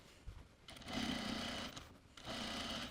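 A sewing machine stitches a sleeve placket on a two-piece sleeve, running in two steady bursts of close, moderate-volume whirring with a short pause between them and no talking.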